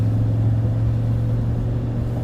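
Traffic passes a truck and trailer stopped at the roadside, giving a steady, close, low engine rumble with no break.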